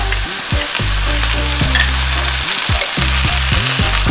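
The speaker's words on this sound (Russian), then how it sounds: "После того, как лук стал прозрачным, добавляем тушенку." Canned pork stew and onions fry in a pan with a loud, steady sizzle close by, broken by scraping and stirring sounds throughout.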